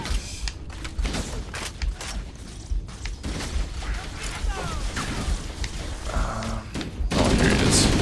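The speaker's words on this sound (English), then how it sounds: "Stationary guns are gonna tear us to pieces." Fast stationary-gun fire from Halo: Combat Evolved, with dense bursts of rapid shots and booms overlapping continuously at close range, growing heavier toward the end.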